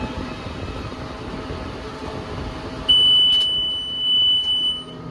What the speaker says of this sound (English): It's gonna give out a loud beep at 60.